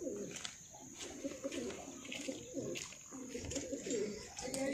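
Pigeons coo in repeated low, soft phrases over a steady background hiss, with faint chirps and brief bursts of nearby voices.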